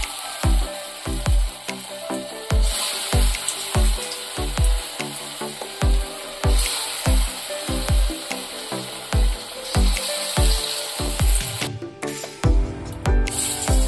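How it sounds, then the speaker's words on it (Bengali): Masoor dal fritters (bora) frying in hot white oil in a kadai, a steady loud sizzle broken by repeated sharp crackling bursts at a near-regular rhythm, close and continuous with no talk. "এইভাবে এক এক করে বড়াগুলো ভেজে নিয়ে ফিরে আসছি"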